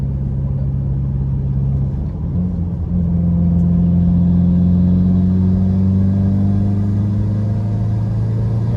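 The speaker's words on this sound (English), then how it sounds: "I just need to get some data for you, like accelerating" A tuned Subaru WRX with intake, downpipe and equal-length headers pulls in third gear, its engine droning loud and steady with a rising tone after a brief dip, close and alone.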